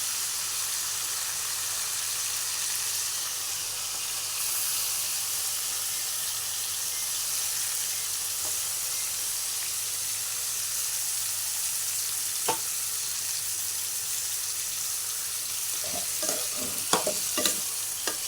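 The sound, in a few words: mutton sizzling and being stirred in tempering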